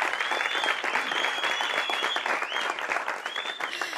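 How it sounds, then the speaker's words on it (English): A studio audience at a South African television show gives a steady, dense round of applause for newly introduced resident judges, continuous and loud throughout with a faint whistle or cheer riding on top. "Give them a round of applause again."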